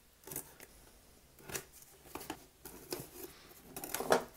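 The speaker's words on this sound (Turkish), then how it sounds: "Dilerseniz kutusunu açalım." Cardboard retail box of an A4Tech Bloody T7 gaming mouse being opened, with a few separate crisp scraping and tearing bursts spread across a quiet room, close to the mic and with no talking.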